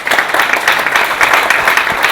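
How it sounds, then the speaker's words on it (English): An audience at a lecture event applauds John Howard, a continuous crowd ovation with individual claps standing out in a quick, lively rhythm. "Please give a round of applause for John Howard."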